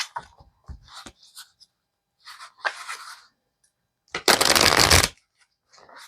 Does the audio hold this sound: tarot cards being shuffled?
yes